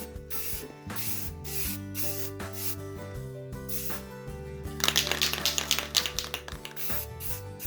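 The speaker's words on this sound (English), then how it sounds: "this is actually at the bottom of the barrel, this particular spray paint." Spray paint hisses onto model railway track in short bursts over a steady mechanical background, with a louder, denser spray stretch near the end.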